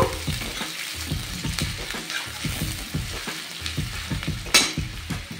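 Chopped onions frying in a pan while being stirred, a steady close sizzle broken by regular scraping strokes of a spoon against the pan, moderately loud with no voices.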